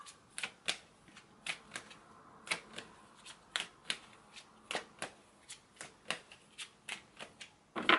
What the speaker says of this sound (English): let's continue shuffling this deck for group 3